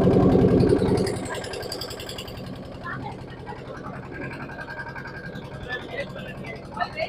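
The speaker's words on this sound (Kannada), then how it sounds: "ಸೂಪರ್ ಸ್ಟಾರ್ಟ್ ಆಯ್ತು ಬೋಟ್" A village boat's engine runs with a steady mid-pitched chug, loudest at first and then settling into a continuous idle-like rumble while people talk nearby.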